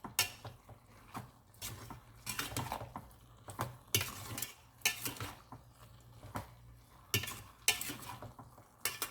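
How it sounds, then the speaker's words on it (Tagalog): Ladle scraping and clinking against a pot while ginataang langka with vegetables is stirred, with repeated irregular scrapes and knocks up close and a faint low hum underneath. "Haluin natin"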